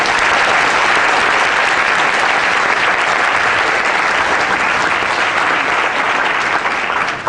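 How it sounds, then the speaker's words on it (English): An audience at a school band concert applauds with loud, sustained clapping that fills the room evenly from start to finish before easing off at the very end. "so they deserve another round of applause for that"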